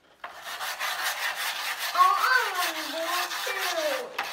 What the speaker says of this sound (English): My assistants Harper and Penelope cleaning off my trim pieces